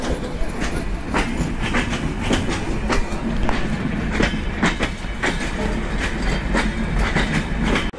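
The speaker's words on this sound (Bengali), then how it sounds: "Up Rupsa express Kotchandpur railway station প্রবেশ করছে।" The Up Rupsha Express, an intercity train between Khulna and Chilahati, rolls into Kotchandpur railway station with a steady loud rumble and rhythmic clickety-clack of wheels over rail joints, heard close up.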